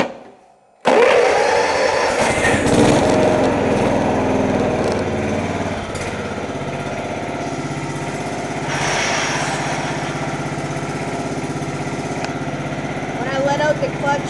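John Deere lawn tractor with plug-fouling trouble, cranked and fired up after a brief quiet start, then running at a loud steady buzzing idle with fluctuations, while a person talks over the engine.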